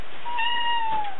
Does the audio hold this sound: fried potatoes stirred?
no